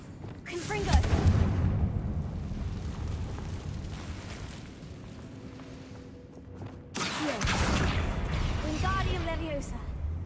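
A Confringo blasting spell explodes in a Harry Potter video game, a deep booming blast that rumbles and decays over several seconds before a second burst hits, with a voice speaking over it.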